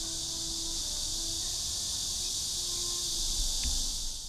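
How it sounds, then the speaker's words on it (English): A constant high-pitched insect drone hums loudly and evenly throughout, a dense chorus of cicadas filling the air on a hot day in Shanghai. "These cicadas are so loud."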